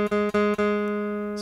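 Guitar string buzzing from too little fretting-finger pressure on a beginner's guitar, a sustained tone with three quick rattling interruptions early on, then ringing out and fading alone.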